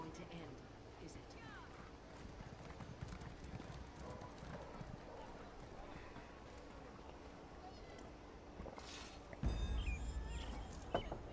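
Horse hooves clop in a steady rhythm through the open world of Elder Scrolls Online, moderately loud over a busy game soundscape, with a louder jolt near the end.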